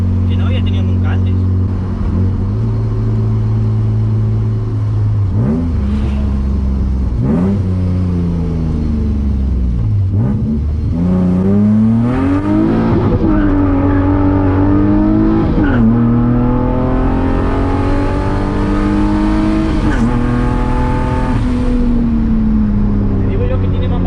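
BMW drift car engine revving hard on a street, loud and close, with rising and falling harmonic sweeps as the throttle is blipped repeatedly, someone talking over parts of it.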